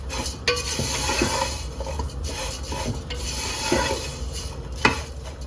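Broken National vermicelli being stirred and roasted in a pan, a steady scraping, rasping stir with occasional sharper clinks of the utensil against the metal, moderately close and continuous with no talking.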